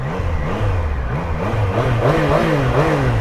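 A Triumph Daytona 660 motorcycle engine revs up and down in steady waves, close and fairly loud, with a continuous mechanical drone and no talking.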